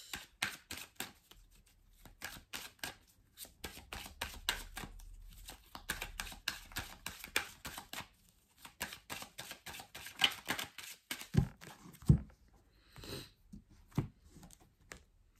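Tarot cards being shuffled for a six-card reading, giving a series of soft, quick riffling and tapping bursts with brief gaps, close and quiet, without any talk.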